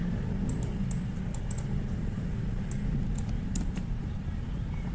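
Keystrokes on a computer keyboard while running a web search, ending with the enter key: a scattered run of light, close clicks over a steady low hum, with no voices.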